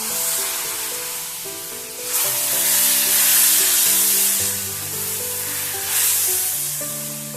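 A hot tempering finished with asafoetida is poured into a pot of sambar made without toor dal, giving a loud, steady hissing sizzle that swells in waves, with music playing underneath.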